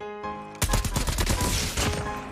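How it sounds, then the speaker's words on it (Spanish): A sudden burst of rapid gunfire in COD Mobile battle royale erupts after a brief quiet hum, a loud volley of closely spaced shots that continues to the end. "Aquí yo escuché disparos también"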